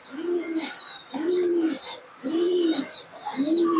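Pigeons in a home loft give four evenly spaced low cooing phrases, close and clear, with softer chirps and a thin higher call between them.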